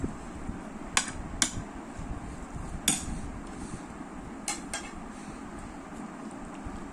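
A salad of capsicum, carrot and onion is tossed in a bowl, producing a soft steady rustle broken by a few sharp clinks of a utensil against the dish.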